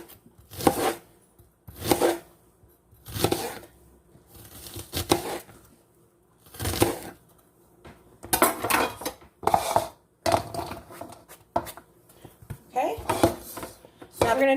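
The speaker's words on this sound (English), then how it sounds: "You want to chop your onion a little bit more fine than you did your celery" A knife chops onion on a cutting board for soup in bursts of quick, crisp strokes separated by short pauses, the clicks growing denser toward the end.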